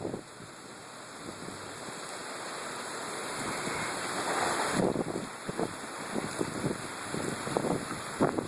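Strong storm wind roars steadily in Seymour, Indiana during heavy rain, a loud, rough rush that builds and gusts with buffeting bursts against the microphone.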